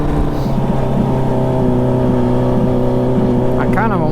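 Hayabusa-swapped Can-Am X3 engine at Glamis holding a steady, loud buzzing drone with a strong harmonic tone, then a short rev swell near the end.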